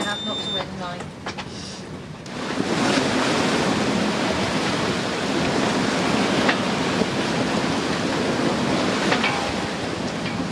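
Strong wind and waves rush past a sailboat with its mainsail up at sea near Paros and Kythnos in Greece, a loud continuous roar of broadband noise, with brief voices near the start.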